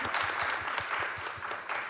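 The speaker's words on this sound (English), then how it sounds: "And applaud for him." An audience claps for a departing director at a panel event, giving a short, even patter of applause with no voices over it.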